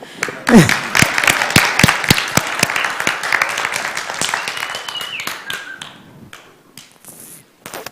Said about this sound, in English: we need to do that clap one more time